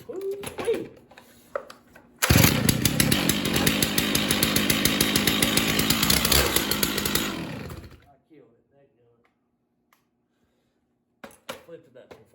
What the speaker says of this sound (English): it's a running saw